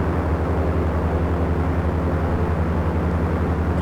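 A fixed-undercarriage light aircraft climbs in a flight simulator, its piston engine droning steadily with a loud, even pulsing hum under a broad wash of airflow noise.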